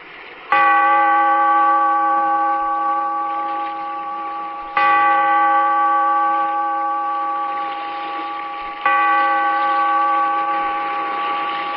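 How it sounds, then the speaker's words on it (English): A deep church-style bell tolls three times at a slow, even pace for the opening of a radio drama, each strike ringing out and fading before the next, with no voices. "Bellkeeper, toll the bell"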